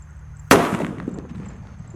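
A Power Eisner firecracker bursts in a bucket with one sharp, loud bang, followed by a brief rattling, fading resonance.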